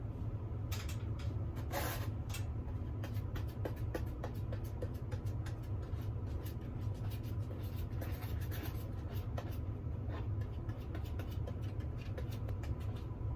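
Faint, repeated brushing strokes of contact cement onto EVA foam, a soft scratchy rubbing in irregular bursts over a quiet background.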